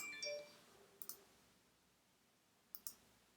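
Computer mouse clicks in a quiet room, a few sharp double clicks spaced apart, near and crisp with no talk.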